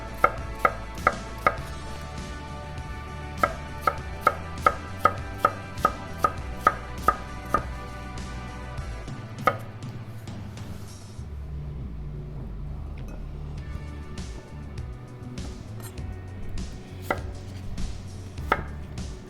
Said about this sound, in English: I'm going to start slicing the potatoes. I cut them in half, then cut them in quarters, and just thin slices.